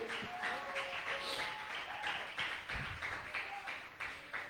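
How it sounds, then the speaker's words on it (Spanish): A church congregation claps for Jesus during a Spanish-language sermon, a scattered, moderately loud patter of hands with irregular bursts, mixed with faint background voices. "dele fuerte ese aplauso al Rey"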